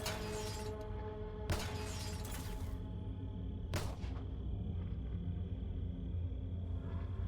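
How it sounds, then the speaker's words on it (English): Glass shattering in the strategy game Xenonauts 2, with several sharp crashing bursts over a steady low rumble, loud and close with no talk. "Glass breaking, gunshots."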